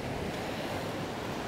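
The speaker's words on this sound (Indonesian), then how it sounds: "Saat ini, kita berada di Pantai Gua Kalilawar." Ocean waves at Gua Kalilawar beach in Lombok, Indonesia, a steady broad wash of surf with wind noise, constant and moderately loud with no voices.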